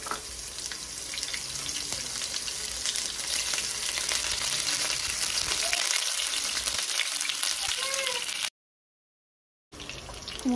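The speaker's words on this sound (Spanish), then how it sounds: "Aquí tengo el sartén caliente, voy a agregar un poco de aceite de oliva y voy a agregar un poco de cebolla" Chopped onion frying in olive oil in a hot pan, a steady, dense sizzle with occasional stirring scrapes, close and continuous before cutting out abruptly near the end and briefly resuming.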